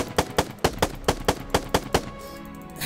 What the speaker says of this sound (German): Ich baller jetzt einfach mit dem Gewehr nochmal ein bisschen drauf.